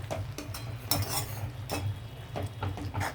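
A spoon stirs tamarind juice into amaranth leaf pulusu in a pot, with repeated scraping and clinking strokes against the metal and a soft simmering sizzle underneath, close and steady.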